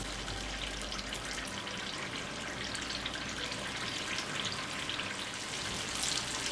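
Unniyappam batter sizzling and frying in a small appam pan, a steady dense crackle and hiss that stays close and even throughout, with no talking.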